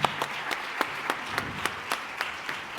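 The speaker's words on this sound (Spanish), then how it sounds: "este fuerte aplauso para agradeceros que me hayáis ayudado a abrir el foro" Applause from a crowd at a health policy forum, steady clapping with sharper individual claps standing out at a regular pace, fairly loud and with no talking.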